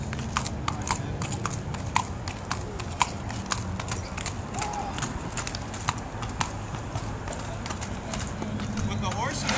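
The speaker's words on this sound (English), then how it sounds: "We put those together to teach the horses just to walk through things" Trained horses walk through pool noodles, their hooves giving an irregular clip-clop of clear knocking steps over a steady ambient background, moderately near.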